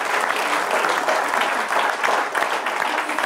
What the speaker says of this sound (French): Merci beaucoup d'être là, on peut l'applaudir.